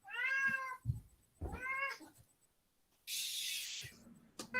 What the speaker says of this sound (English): 1 second, my cat.